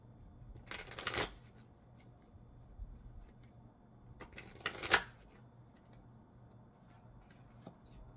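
Queen of the Moon oracle cards are shuffled up close, two soft papery riffling bursts separated by quiet pauses with faint light taps.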